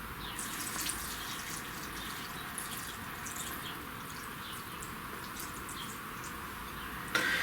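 Water steadily pouring over white acacia flowers for jam, a continuous close splashing trickle that runs unbroken and alone, with a brief louder splash near the end.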